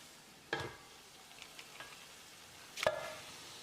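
Marinated chicken added to a pan and frying. Two distinct drops or clatters stand out above a faint, quiet sizzle with a few small ticks between them, and there is no talking.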